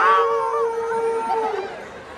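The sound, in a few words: person imitating a dog or fox howling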